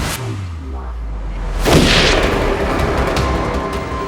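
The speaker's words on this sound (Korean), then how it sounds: "섬 여기저기서 총성이 들려오기 시작해." Gunfire sound effect for a 1971 island mutiny scene, a sharp loud bang after a low rumbling lead-in, trailing into a sustained booming echo.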